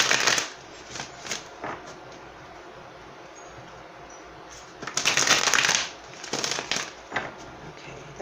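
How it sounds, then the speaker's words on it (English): Tarot cards riffled and shuffled by hand in quick, crisp bursts, with a long flurry in the middle and short papery flicks around it, heard close against a quiet room. "That was a good shuffle."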